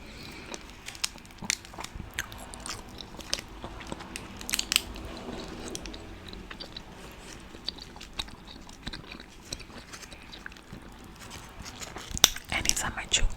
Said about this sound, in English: Anytime I chew gum, I like to chew gum in twos.